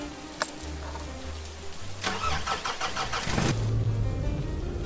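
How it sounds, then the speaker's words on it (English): A car engine cranks and catches in a forest setting, turning over briefly before settling into a steady mid-pitched idle that rises slightly, heard alone and close. "Uva and Elizabeth get into the car and they continue through the forest"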